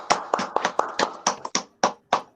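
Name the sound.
audience clapping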